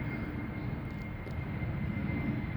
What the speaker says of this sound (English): That's a fucking jet.